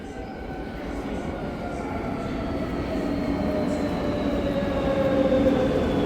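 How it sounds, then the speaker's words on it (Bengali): A metro train at an underground station near Ventas in Spain gives a steady rumble of rolling wheels and carriages that grows gradually louder over several seconds, with faint tonal whines above it and no talk. "এখন আমরা মেট্রোর জন্য অপেক্ষা করছি"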